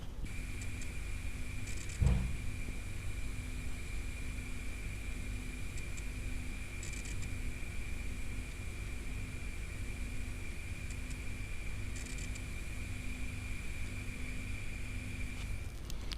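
A Seagate Cheetah 450GB hard drive runs under a speed test, giving a steady high-pitched whine over a constant airy fan hum, with one soft bump early on and faint seek chatter at intervals.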